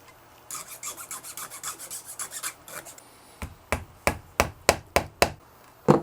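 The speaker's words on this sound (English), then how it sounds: "I'm going to take that same file, and I don't really want to chamfer it, so to speak. I just want to kind of deburr it a little" A metal file rasps along the edge of a guitar template, deburring it: a run of quick, soft strokes gives way to louder, sharper separate strokes, close and alone.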